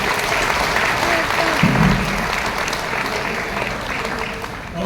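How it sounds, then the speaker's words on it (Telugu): A large audience breaks into a big, sustained round of applause at a speech event, dense steady clapping filling the room from start to finish with a faint voice briefly underneath. "సో బిగ్ క్లాప్స్ ఇవ్వండి మా గురించి వాళ్ళకి."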